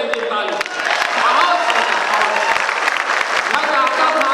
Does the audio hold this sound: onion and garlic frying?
no